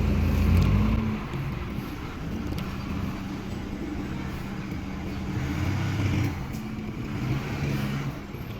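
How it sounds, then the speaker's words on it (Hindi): Car engine idling and revving as the car is being taken out, a low steady rumble that swells slightly at moments, heard alone without talk. "उनका स्ट्रगल दिखाता हूँ भाई तुम्हें गाड़ी निकालने के लिए"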